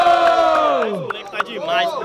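Loud crowd at a Brazilian student rap battle in Guarulhos, São Paulo, cheering and shouting in a sustained roar, with voices yelling and whooping throughout.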